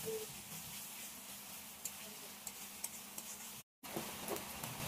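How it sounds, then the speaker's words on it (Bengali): Ginger, garlic, green chili and cumin sizzle lightly in a pan, a soft steady frying hiss with occasional faint ticks and stirring clinks, broken by one brief cut of silence. "আদা রসুন কাঁচা লঙ্কা জিরাটা যাতে কাঁচা কাঁচা গন্ধ না আসে ততক্ষণ একটু হালকা ভেজে নিতে হবে"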